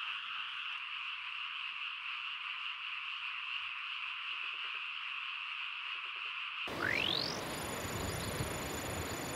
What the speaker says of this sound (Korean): 개구리 소리에 잠을 쉽게 들지 못하는 반가운 밤이다.